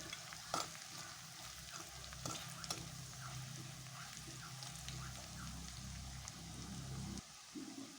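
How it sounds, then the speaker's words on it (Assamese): A quiet, steady sizzle of spices frying in a pan with occasional scrapes and taps from stirring, soft and continuous. "মছলাখিনি ভালকৈ ভজা যোৱালৈকে ভাজিব লাগিব।"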